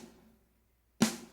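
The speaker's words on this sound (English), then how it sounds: "Sounds like this without any EQ." An unequalized snare drum sample in a mix session gives one sharp, loud crack. It follows the faint fading tail of a previous hit and a short silence.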